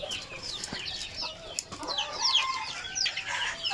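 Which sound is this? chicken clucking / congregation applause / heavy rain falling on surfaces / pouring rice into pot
chicken clucking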